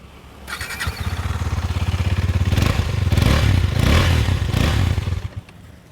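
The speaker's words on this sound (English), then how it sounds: "hear the exhaust" A Husqvarna Svartpilen 250 motorcycle engine cranks and fires up close, its exhaust throbbing in a rapid, loud burble that swells briefly with throttle before settling and cutting off.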